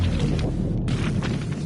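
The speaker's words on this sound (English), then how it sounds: "everything blows up here" A deep rumbling boom from a Fortnite live event explosion, heavy and continuous with low roar throughout and a brief dropout partway before the rumble resumes.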